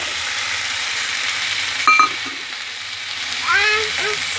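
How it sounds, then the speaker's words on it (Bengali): Ground spices sizzle and fry steadily in hot oil for a Bengali mourola fish curry, a continuous close crackle with brief stirring scrapes, while a few faint words pass over it. "মশলাগুলো ভালো করে ভাজা ভাজা হয়ে যাচ্ছে, তেল ছেড়ে দিয়েছে"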